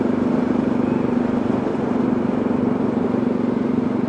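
A motorcycle engine in fifth gear at low revs gives a steady, even drone with a low, constant hum, heard close with no change in pitch.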